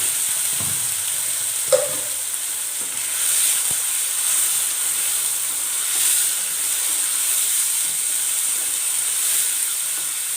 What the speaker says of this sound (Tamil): இந்த பச்சை வாசனை போகிற அளவுக்கு இந்த எண்ணெயிலே நல்லா வதக்கிடலாம்